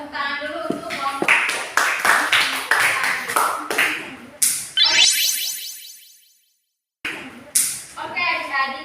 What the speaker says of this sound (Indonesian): Kita tepuk tangan dulu untuk kelompok.